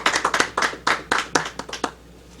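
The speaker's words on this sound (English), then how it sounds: "Round of applause." A few people clapping at a Detroit temple meeting, sparse and uneven bursts of hand claps close by, quickly tapering off to quiet.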